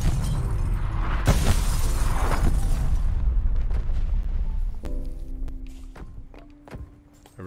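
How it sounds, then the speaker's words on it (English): Artillery strike explosions in Call of Duty Cold War: a sustained, heavy rumbling barrage of deep booms with sharp impacts for about three seconds, then fading into scattered thuds and tonal game effects. "Artillery inbound."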